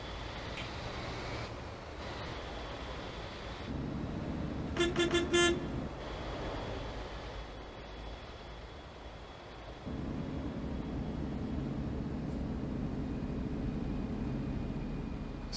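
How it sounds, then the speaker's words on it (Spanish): A Busscar Busstar S1 double-decker bus engine in a driving video game drones low while descending, the retarder braking in with a louder steady hum partway through, with a brief horn-like toot in the middle. "Sí, lo escuchan el retarde, ¿no?"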